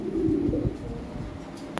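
A Lahore pigeon coos with a soft, low, throaty rumble close by, in a short burst.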